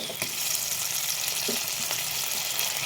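Vegetables such as potato frying in a pan with oil for a vegetable cooker pulao, a steady close sizzle throughout with faint stirring clicks.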